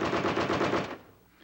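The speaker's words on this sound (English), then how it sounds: "The M60 is the standard machine gun for the U.S. Army." An air-cooled M60 machine gun firing a rapid burst of about a dozen evenly spaced shots, loud and sharp, then cutting off into a short fading echo.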